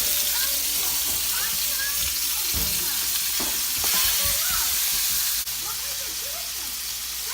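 Fries sizzle and bubble steadily in hot oil, a dense crackling hiss with occasional stirring clatters, loud and close throughout.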